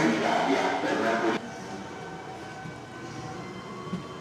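A Naples metro train rumbles steadily, loud at first and then dropping suddenly to a quieter, even hum of the carriage in motion, with no clear speech over it.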